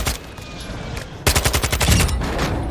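Rapid assault rifle gunfire in the Call of Duty Warzone video game, a loud, dense burst of shots that starts with a sharp onset partway through and keeps rattling steadily over a sustained game noise bed.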